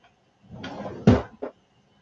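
A drawer in an IKEA Alex five-drawer unit beneath a desk slides along its runners with a low rumble, then shuts with a solid thump, followed by a smaller knock. All of it is close and there is no talking.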